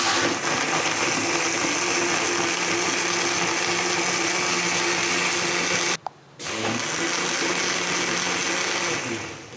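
A blender grinds lemon, sugar and water for lemonade in a loud, steady whir, cuts out briefly near the end, then starts up again, close by with no talking.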